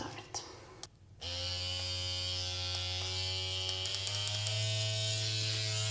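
Electric microneedling pen buzzing steadily against the forehead during an at-home face session, a loud, constant close-up drone that starts abruptly after a brief pause and keeps running without break.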